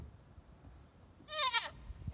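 A young goat on a farm gives a single short, high, wavering bleat, close and clear against quiet background noise.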